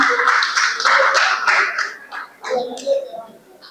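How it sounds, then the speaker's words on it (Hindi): Audience at a live comedy show in Gwalior claps steadily for a few seconds, a dense patter of many hands that thins and tapers toward the end. "बजा दो ताली, कोई दिक्कत वाली बात नहीं है"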